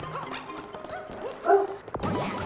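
A single sharp dog bark from Super Mario 3D World rises out of game music and sound effects, brief and fairly loud.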